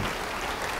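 A church congregation claps during a sermon, a dense, steady burst of applause lasting under a second with no voices over it.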